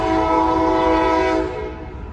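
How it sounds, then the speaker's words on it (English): Amtrak Capitol Corridor train 541, led by a Charger locomotive, arriving at Berkeley station: a loud, sustained multi-tone horn chord over rail rumble, then easing off as the train draws in. "here comes Amtrak, capital quarter, train 541"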